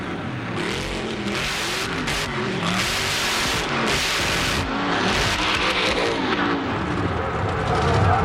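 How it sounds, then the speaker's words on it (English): A drag race car's engine roars continuously at high revs with its throttle stuck open, loud and close, the pitch sweeping up and down over several seconds alongside tire noise. "You can hear him winging the throttle."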